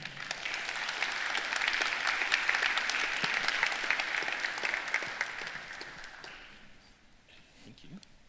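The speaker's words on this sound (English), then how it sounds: "Round of applause for Adam." A conference audience at a security talk applauds the speaker, a dense, steady round of clapping that swells and then tapers away over several seconds.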